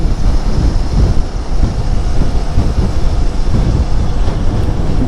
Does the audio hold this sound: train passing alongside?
yes